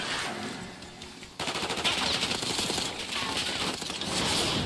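The Goblin Mark II gun fires in Call of Duty Black Ops 6 as a rapid continuous burst. Dense, loud fire starts abruptly after a quieter lead-in and carries through to the end.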